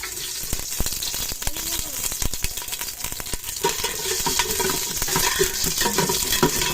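Garlic fries in a pan with a loud, steady sizzle, with scattered clinks and scraping of stirring, close by.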